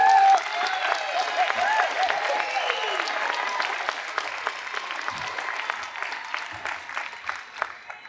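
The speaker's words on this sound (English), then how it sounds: "can we give a round of applause to Michelle?" An outdoor crowd at a March for Life rally in Brisbane applauds a speaker, sustained dense clapping with scattered cheers and voices, strongest at first and tapering off over several seconds.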